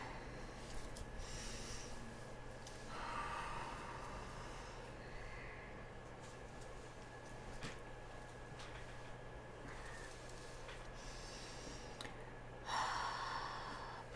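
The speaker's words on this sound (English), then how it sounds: "Take another breath." Slow, deep breaths during a guided meditation, a few soft inhales and exhales spaced several seconds apart, faint and close over a steady low background hum.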